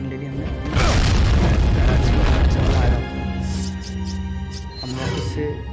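A bomb goes off in Resident Evil 4 with one heavy, sustained low boom that swells near the start and lingers for a couple of seconds. It is followed by quieter rumbling game ambience, with someone talking over it.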